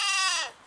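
A single short goat bleat, wavering and nasal, close and fairly loud, trailing off after about half a second with no talk over it.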